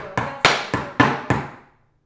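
Tap shoes striking the floor in a flap, heel and toe pattern: five sharp, close, evenly spaced taps with short ringing decays, heard alone.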